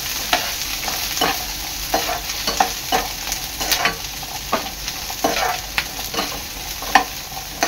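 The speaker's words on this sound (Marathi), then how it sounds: "आणि आपली परतली चांगली परतून घ्यायची आहे." Capsicum and onion being sautéed in a pan for a veg kolhapuri dish: a steady, close sizzle with repeated spoon scrapes and stirring strokes at an irregular rhythm, no voices.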